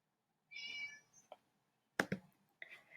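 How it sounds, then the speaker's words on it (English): A short cat meow sound effect plays on an interactive classroom slide: one clear meow, then a few faint clicks and another brief meow, all close and alone. "it can actually say meow."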